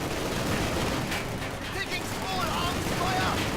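Grenades and gunfire going off in a Company of Heroes 2 battle, a dense, continuous rumble of blasts and shots that stays loud throughout with no pause.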